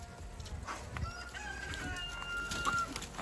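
Chickens cluck and squawk excitedly at close range while chasing a tomato hornworm, a flurry of short fowl calls and some rooster-like crowing over rustling outdoor noise.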